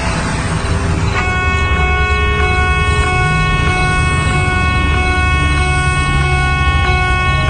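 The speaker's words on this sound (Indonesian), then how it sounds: "Kudengar bunyi peringatan menyala dan palang pintu pun mulai turun." A loud, steady rumble of a passing train with a repeating electronic warning chime of a railroad crossing ringing in an even rhythm over it.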